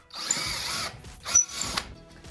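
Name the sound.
power drill drilling holes in metal pole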